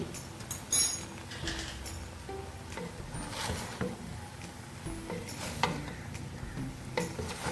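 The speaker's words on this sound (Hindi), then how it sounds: "चम्मच की मदद से थोड़ा थोड़ा मिक्स करेंगे ताकि अच्छा सा कलर आ जाए।" A spoon stirs chicken jalfrezi in a pot, soft scraping and occasional clinks against the metal over a faint sizzle, steady and close with no voices.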